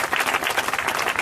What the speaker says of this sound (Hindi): तालियां देंगे।